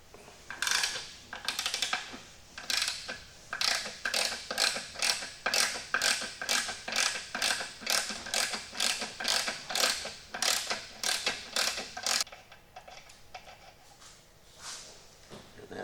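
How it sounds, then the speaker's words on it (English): A ratchet fitted with a 15mm socket loosens a bolt on a Mercury 60 HP Big Foot outboard motor, making a close, steady run of rapid clicking strokes that stops near the end. "I'm gonna have to get a socket for it. So it's a 15mm socket."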